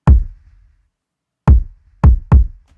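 Four punchy kick drum hits with light Waves MV2 compression in Logic Pro X, in an Afrobeats production: one hit, a pause, then three in quicker succession, each with a short, booming low decay and no voices.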